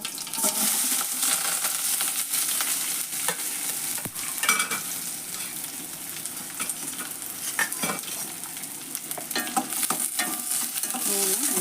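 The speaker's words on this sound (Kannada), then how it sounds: "ಎಣ್ಣೆ ಒಳಗೆ ಕರಿಬೇಕ್ರಿ ಉಳ್ಳಾಗಡ್ಡಿ ಕರಿಬೇಕು" Onion and curry leaves fry in hot oil with mustard seeds for a tempering, a steady close sizzle and crackle running throughout with occasional stirring scrapes and pops.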